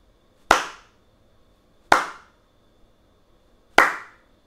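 Three sharp hand claps ring out alone in a quiet room, spaced more than a second apart, each loud and crisp with a short decay, used to set off a Scratch loudness-triggered program.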